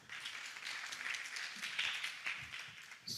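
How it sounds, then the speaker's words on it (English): An audience claps at a youth forum on sustainable development goals, a fairly soft, steady patter of many hands lasting a few seconds with no talk over it. "Let's clap for him again."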